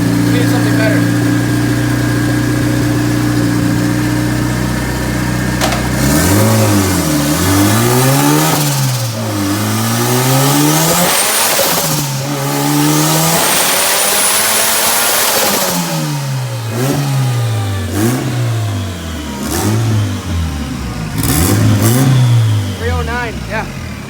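A turbocharged all-wheel-drive Honda with a slipping clutch revs hard on a dyno, its engine note rising and falling in repeated loud sweeps between idle stretches, with people talking over it.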